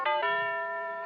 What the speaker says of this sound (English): pushed the bell. Even it was wired for Christmas.